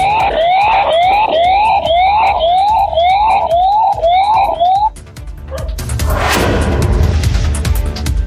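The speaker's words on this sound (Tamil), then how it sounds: "தகவல் அறிந்து வந்த வனத்துறையினர் சைரன் ஒலி எழுப்பி யானைகளை விரட்டினர்." Forest department siren sounded to drive elephants away, a loud wailing, rapidly rising and repeating electronic tone for about five seconds, then giving way to broad noisy rumbling.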